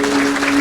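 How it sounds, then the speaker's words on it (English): Audience applause at an Australia Day graduate celebration for university students: a brief, dense wash of clapping from the crowd, steady and fairly loud, with a faint constant hum underneath. "Everyone give the students a massive round of applause for all of their hard work."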